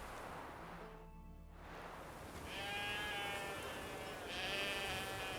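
Sheep in The Witcher 3 bleating twice in quick succession, moderately loud against a steady ambient outdoor wash.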